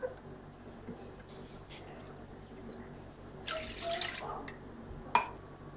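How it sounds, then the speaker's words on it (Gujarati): Water poured from a bowl onto freshly washed lentils in a home kitchen: a quiet room, then a short splashing pour and a single small clink near the end. "હવે તેમાં આપણે 2 વાટકા ભરી અને પાણી નાખી દઈએ."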